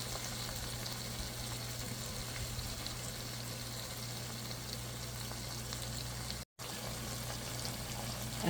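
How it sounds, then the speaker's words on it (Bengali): Hot water poured into browned achari meat curry to make gravy sets off a steady hissing, bubbling simmer close by, constant for several seconds apart from one brief silent gap. "আর একটু গরম পানি দেব ঝোলের জন্য।"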